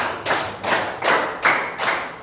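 Five evenly spaced bursts of group hand clapping ring out in a classroom counting clap game led by a teacher, each burst sharp and crisp with a short tail.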